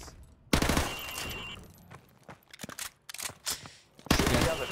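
Bursts of rapid gunfire at targets in Call of Duty Modern Warfare, loud sustained volleys at the start and end with scattered single shots in between, no talking.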